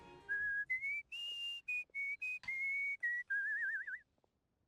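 A character in Genshin Impact whistles a bright tune in a string of short, clear, high notes with brief gaps, finishing on a warbling trill before the sound stops.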